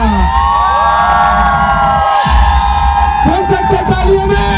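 Loud crowd cheering with whoops and shouts at a celebration for a new Range Rover Velar, a sustained roar of voices with a brief dip midway before the cheering surges again.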